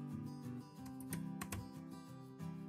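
Keys tapped on a computer keyboard while entering Python code in an IDLE shell on Windows, a quiet run of irregular, close clicks with no voices.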